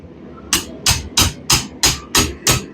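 Hammer blows drawing out metal during smithing, seven sharp, close strikes evenly spaced at roughly one every third of a second.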